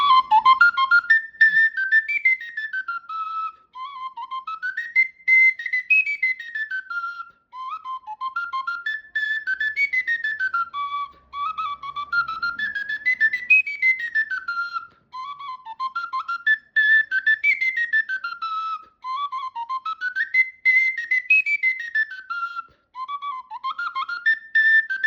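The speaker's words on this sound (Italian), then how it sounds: "strumento in do, fiscaletto in do del mio amico Libo Graziano" A Sicilian friscaletto, a small flute pitched in C, plays a lively tarantella solo: bright, piercing whistle-like melody with quick ornamented runs, repeating phrases and brief breath pauses, heard close with no talking.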